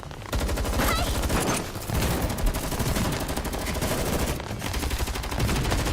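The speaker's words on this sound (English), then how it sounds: "I find it very exciting all the sounds of shooting" Sustained, dense gunfire from multiple weapons in GFL2 Exilium as the squad shoots at a ceiling, with rapid overlapping bursts and crackling shots filling the whole stretch, loud and close with no voices.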